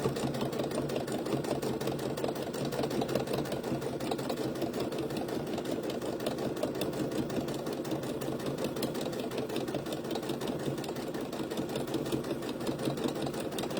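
A sewing machine runs continuously, top stitching around the neck of a fabric baby bib, its rapid even needle clatter and motor hum close and steady throughout, with no talk.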